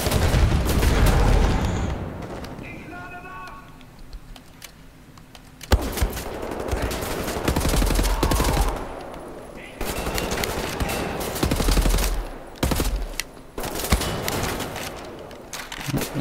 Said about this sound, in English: My guns can't shoot through them.